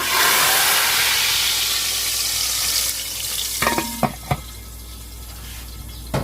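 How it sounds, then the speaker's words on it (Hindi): Loud hot-oil sizzling hisses steadily as a spiced tempering is poured into whole masoor lentil dal, then fades and gives way to clinks and scraping as the pan settles. "ये हमारा तड़का तैयार हो गया है और अब हम इसको इसमें डालते हैं"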